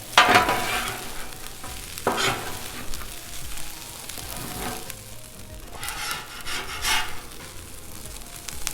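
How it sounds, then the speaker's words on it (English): A metal spatula scrapes and chops pork fried rice on a sizzling Blackstone griddle, with irregular clanks and a continuous frying hiss underneath. "Just keep chopping, keep flipping it around"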